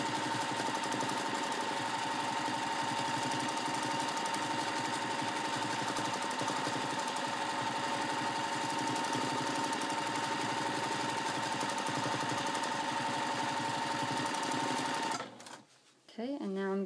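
A sewing machine runs fast and steady during free-motion quilting, a dense mechanical whir with a tonal hum that holds for about fifteen seconds before stopping abruptly, followed by a short quiet pause.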